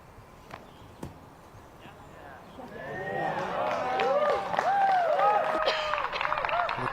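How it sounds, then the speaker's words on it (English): Crowd at a disc golf event reacting to a throw, cheering swelling from about the three-second mark into a loud, sustained roar of voices and whistles. "The crowd is loving it."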